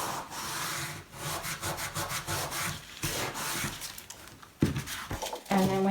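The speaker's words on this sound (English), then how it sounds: "And then wipe that glue off there." Glue being wiped off a paper craft page, a close, continuous run of soft rubbing and brushing strokes with brief handling knocks toward the end, no talk.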